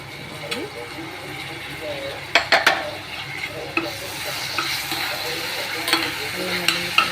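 Ginger garlic paste fries in a pan with a steady sizzle, broken by sharp metallic scrapes and clacks of a utensil stirring against the pan at an irregular pace. Some faint voices can be heard in the background.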